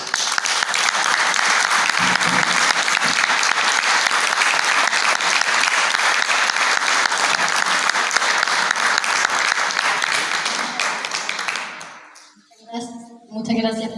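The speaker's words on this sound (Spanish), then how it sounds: "Muchas gracias por esos aplausos" Loud, sustained applause from an audience at a Palestine solidarity event after a poetry reading, a dense clapping roar lasting about twelve seconds before fading as a voice begins to speak.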